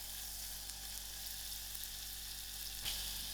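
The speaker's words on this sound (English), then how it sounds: "I have here 1 teaspoon of butter that I'm going to put to the pot to melt" Butter, one teaspoon, melting in a small pan over medium heat on a stove, giving a steady soft broadband sizzle with no talk and a brief clink near the end.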